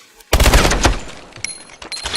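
Gunfire in a first-person shooter video game, a sudden loud burst of rapid automatic shots that decays into scattered echoing cracks and pings.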